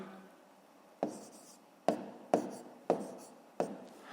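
Pen or chalk writing out numbers for a fifth-grade multiplication exercise, heard as five sharp, separate taps and strokes spaced about half a second to a second apart, close and fairly loud over a quiet background.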